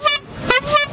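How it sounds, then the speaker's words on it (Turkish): Car horns honk loudly in a street protest in Istanbul, three separate blasts of different pitch in quick succession, close by over traffic noise. "bu fırsatçılara, menfaatlere, asalaklara hepsine kornalıyoruz"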